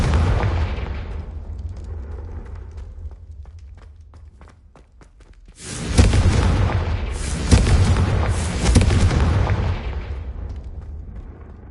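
Confringo fire spell bursting in Hogwarts Legacy: after a stretch of quieter rumbling and footsteps, loud booming blasts erupt with crackling debris, several heavy impacts in quick succession, close and powerful.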